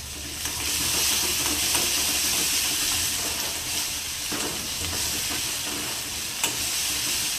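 Soy sauce and Schezwan chutney being stirred in a hot pan for Manchurian give a steady, close sizzling hiss that holds even throughout, with faint scrapes of stirring and no voices.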